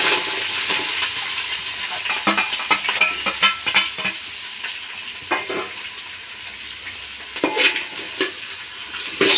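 Chopped vegetables tipped into hot tempering with asafoetida sizzle steadily while a spoon stirs and scrapes the pan in bursts of clattering strokes, no talking.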